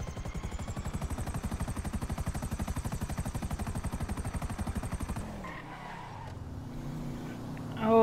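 Rapid rhythmic engine or rotor chopping from a vehicle in the GTA 5 video game, steady for several seconds and then cut off, followed by quieter engine noise and a short tire squeal at the end.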